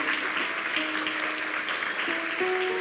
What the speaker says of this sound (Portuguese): Eu queria que vocês aplaudissem com muito entusiasmo o nosso líder de geração.